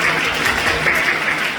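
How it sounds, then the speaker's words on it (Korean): A church congregation claps together during a Friday night prayer service, a steady, loud, even wash of applause with no pauses, heard on its own for under two seconds. "서로를 위해서 뜨겁게 박수로 격려해 주셨으면 좋겠습니다"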